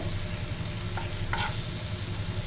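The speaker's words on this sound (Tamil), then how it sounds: "இப்போ இந்த சட்னி நல்லா பச்சை வாசனைலாம் போயிட்டு நல்லா எண்ணெய் பிரிஞ்சு வந்திருக்கு" Garlic and red chili chutney fries steadily in oil, a continuous close sizzle with a couple of brief scraping stirs partway through and no voices.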